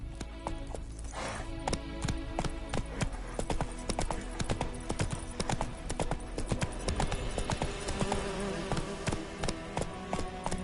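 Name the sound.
horse (Roach) galloping, from the video game The Witcher 3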